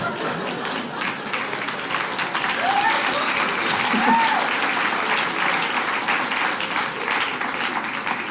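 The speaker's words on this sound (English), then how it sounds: "you better applaud" Stand-up comedy audience breaking into loud, sustained applause mixed with crowd cheering and a few whoops, the clapping steady and dense throughout.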